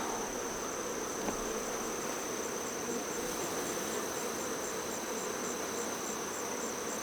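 Honey bees buzzing around an open Apimaye hive, a steady dense hum of many wings with a constant high whine on top, continuous and fairly faint, no voices.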